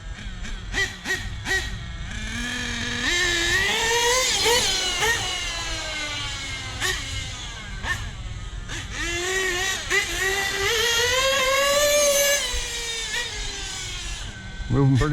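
An Ofna LX2 RC car's nitro engine runs with a high idle, a buzzy whine that rises and falls in pitch over about fifteen seconds, steady and close, with a few brief clicks near the start.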